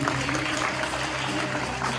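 Loud applause rises from a crowd at a temple chariot festival and guest-honouring event in Khainur, dense sustained clapping filling the short stretch at an even level.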